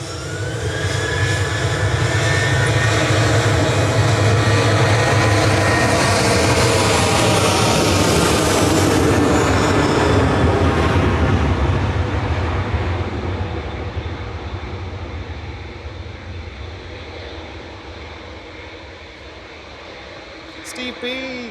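Ryanair jet bound for Pisa at Manchester Airport, a loud jet engine roar with a rising whine that builds, holds, then fades away into the distance over about twenty seconds.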